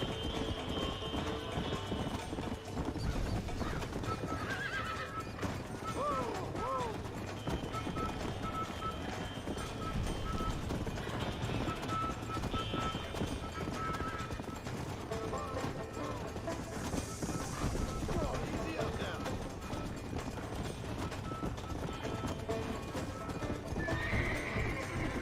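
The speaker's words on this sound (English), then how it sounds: "The horse riding in this game is really good." In the Red Dead video game, a horse gallops with continuous rhythmic clip-clop hoofbeats and neighs now and then, close and steady under someone talking.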